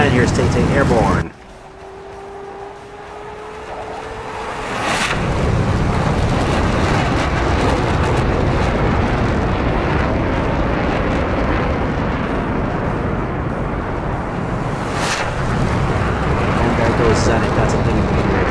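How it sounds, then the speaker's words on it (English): F-15E jet taking off in DCS World, with a sustained broadband engine roar that swells loud and steady after a quieter start, and a sharp burst near the start of the roar and another later. "And here's Tay-Tay airborne."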